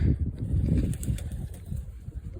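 Pigeons coo in low, throaty bursts, close by and continuous, with a faint flutter of wings and no voices.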